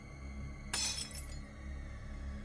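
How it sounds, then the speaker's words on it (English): A window pane shatters after a thrown rock hits it, a single sudden crash of breaking glass followed by a brief tinkle of falling shards over a quiet background. "Of course, the sound of shattering glass is super fucking loud."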